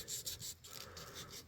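An old orange-handled knife is rubbed with 1000 grit sandpaper in quick, faint back-and-forth rasping strokes, close by and with no talking.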